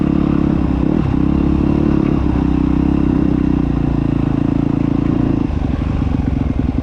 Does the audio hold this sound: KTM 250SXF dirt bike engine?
yes